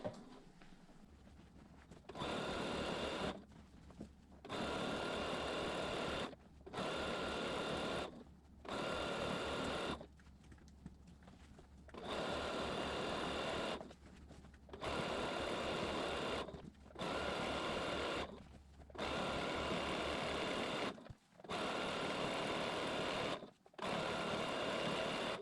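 A sewing machine quilts through a spray-basted quilt in repeated bursts of steady stitching, roughly ten runs separated by short pauses, close and fairly loud with no voices.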